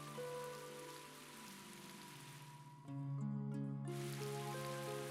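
Rain falls steadily in the Tales of Graces F video game, a soft constant patter beneath sustained musical tones that grow a bit louder partway through.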